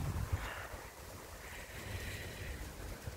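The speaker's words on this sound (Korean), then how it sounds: "바람 부는 거 봐라 엄청 춥다" Cold wind gusting across an open mountainside, a steady rushing roar with low buffeting rumbles against the microphone, loud and continuous with no talk.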